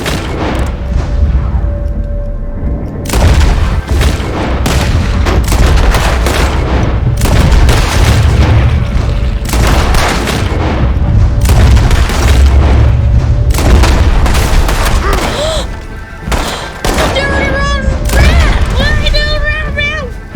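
Heavy gunfire and booming impacts in the video game Red Dead Redemption II, loud and sustained with repeated sharp blasts, mixed with game voices and a player talking over the action.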